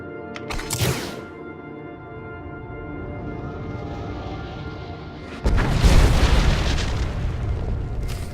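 Explosions destroying Republic walkers in the video game SWTOR, a sharp blast early on, then a sustained roar and a second heavy boom rumbling on, loud and close.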